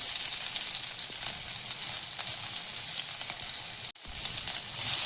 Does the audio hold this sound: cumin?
yes